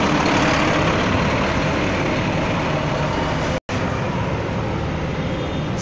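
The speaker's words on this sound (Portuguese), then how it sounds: "Olha aí, motor Mercedes." A Mercedes bus engine runs at the Novo Rio bus station, a loud, steady broadband rumble and hiss close by, unbroken apart from a split-second dropout.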